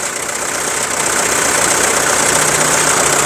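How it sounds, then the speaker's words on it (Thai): An Isuzu Dragon Eye 4x4 pickup truck engine idles close by with a steady, rhythmic diesel-like chugging and a faint rattle. "เสียงเครื่องยนต์เพาะๆนะครับผม"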